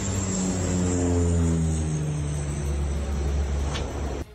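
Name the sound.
firefighting aircraft flying over wildfire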